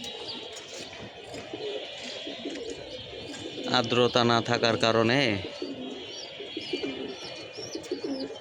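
Pigeons cooing from a loft, soft throaty coos and faint chirps throughout with a louder burst of rhythmic cooing midway, someone talking over them.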